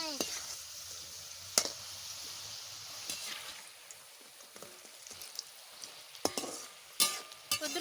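French fries sizzle steadily in a hot pan of oil as a fresh batch is poured in, with a dense hiss and occasional stirring clatters and spatter pops.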